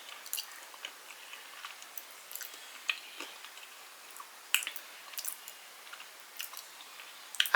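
Close, wet chewing of a bite of a meal topped with crunchy garlic chili oil, with irregular soft crunches and squishy mouth sounds spread over several seconds, heard alone in a quiet room.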